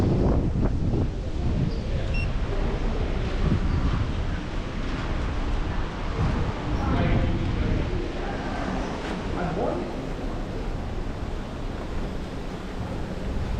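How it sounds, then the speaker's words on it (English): Strong gusty wind buffeting the microphone while riding a Hiboy S2 Max e-scooter uphill on a windy day in Las Vegas, a continuous low rumbling roar throughout. "there's a whole lot of wind"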